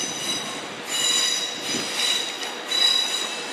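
A Virgin Pendolino class 390, unit 390-009, pulls out of London Euston, with steady rolling rumble, high-pitched wheel squeal and faint rhythmic clatter, fairly close and without voices.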